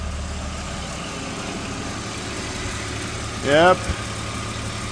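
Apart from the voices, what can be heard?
BMW E46 330ci engine idling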